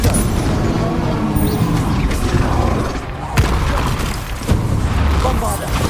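Confringo blasting curse explosions boom in a Hogwarts Legacy fight, heavy thuds and bursts over a continuous rumble of spell combat, with spoken incantations mixed in.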